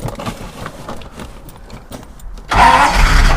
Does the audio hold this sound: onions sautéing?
no